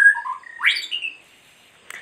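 An oriental magpie-robin sings at dawn, a short burst of bright rising whistles and chirps, close and clear, ending in a brief faint note after a pause.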